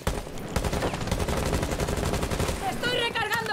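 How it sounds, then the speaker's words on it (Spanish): Rapid automatic gunfire from a Rainbow Six Siege match sprays through a wall, a loud, close, evenly spaced burst of shots lasting several seconds, ending with a brief electronic game chirp. "Vamos a hacer un poco de wallbang aquí"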